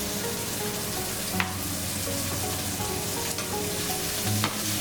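Onions fry in a little oil in a pan for swordfish adobo, producing a loud, dense, continuous sizzle up close, broken by a few sharp stirring scrapes, with no voices.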